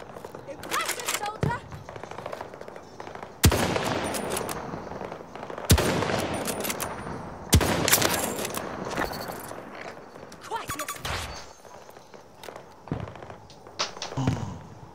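Gunfire in Battlefield 2042 comes as several loud, sharp single shots and bursts spread across the stretch, between crackling game effects, while someone talks over it.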